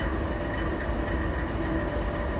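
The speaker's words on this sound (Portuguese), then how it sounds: "a gente vai seguir aqui o trem que desceu para conserva" A locomotive shunting in a rail yard in the Open Rails train simulator game rumbles on continuously, a steady, loud, close drone of rolling wheels and engine with no pauses.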